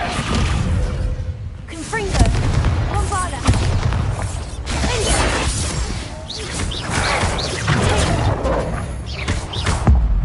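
Spell blasts and explosions in the Hogwarts Legacy video game, with bursts of booms, crashes and shattering spread across the clip under characters' voices shouting spells and talking.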